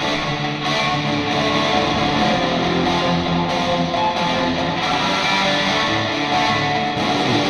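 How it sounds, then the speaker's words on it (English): Dense, washy electric guitar chords ring out steadily, smeared by a bright, shimmering plate reverb with no pauses or voices. "It's a plate sound."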